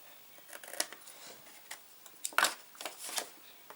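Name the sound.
cutting off paper envelope corners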